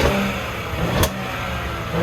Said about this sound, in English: Can we get a quick rev out of it?